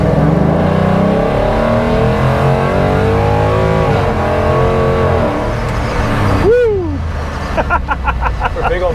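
A Ford Bronco four-wheel-drive truck with a Coyote V8 accelerates hard, its engine roaring close and rising steadily in pitch, with a brief whooshing sweep near the end and faint voices in the cabin.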